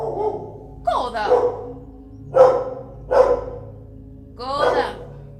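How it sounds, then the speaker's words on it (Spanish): A dog barks indoors at the walls, giving four or five loud, close single barks spaced about a second apart, with some whining yelps between them and no talk. "es que Coda a veces ladra a las paredes"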